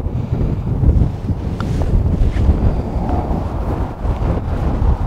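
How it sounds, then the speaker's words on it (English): Wind on a golf course buffets the microphone with a loud, continuous low rumble that surges and eases, with no voices. "That wind there, no, it's in my face now, the wind"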